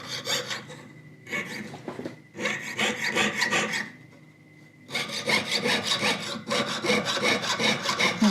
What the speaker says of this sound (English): There's going to be a lot of filing.